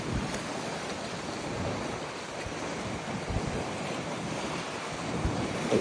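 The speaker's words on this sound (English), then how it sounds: "So the ocean's coming in here, and then it's going under here." Atlantic ocean waves surge in and out of a sea cave under a rocky overhang on the Albufeira coast, a continuous loud wash of surf and wind with no voices.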